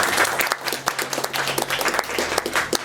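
Applause from the audience at a traditional hanok concert: a crowd claps briskly and steadily, with individual claps standing out in an uneven rhythm.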